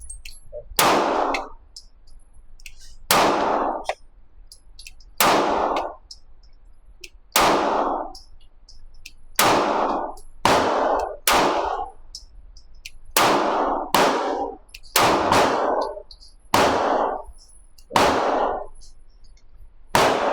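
A SCCY DVG-1 9mm pistol fires about eleven sharp, loud shots at irregular intervals of one to two seconds, each with a brief ringing decay, close by on an outdoor range.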